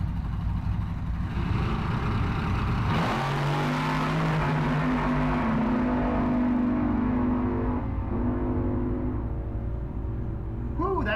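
A drag racing car makes a full-throttle run down a racetrack at a cruise night, its engine roaring in rising gear pulls with brief shift breaks, heard from a distance amid crowd ambience.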